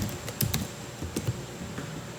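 Someone types on a computer keyboard, including presses of the tab key. A few crisp, separate clicks sound up close over a quiet background.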